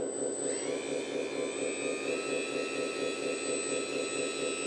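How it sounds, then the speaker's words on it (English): A 1/14 scale 8x8 RC hydraulic roll-on dump truck raises its dumper, giving a steady, even electric pump whine with a high-pitched tone that continues unbroken and fairly close throughout. "First the dumper, let's lift."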